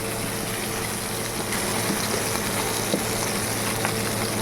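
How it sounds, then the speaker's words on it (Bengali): Ginger, garlic, cumin and onion paste fries in a pan for a rohu fish curry, giving a steady, dense hiss and sizzle that continues without pause. "এই আদা রসুন জিরে পেঁয়াজ বাটা আছে এই যে ভাজা করছি"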